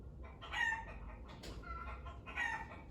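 Domestic chickens cluck in short bursts while a rooster crows nearby, the calls rising twice over a steady low background rumble with no one speaking.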